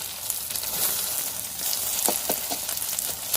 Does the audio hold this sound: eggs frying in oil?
yes